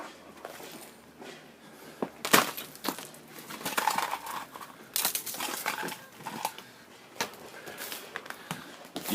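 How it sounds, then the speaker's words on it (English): Dogs bark outdoors in a neighbor's yard during an ice storm, a scattering of sharp, moderately distant barks coming in irregular bursts over faint background noise. "You hear those dogs barking?"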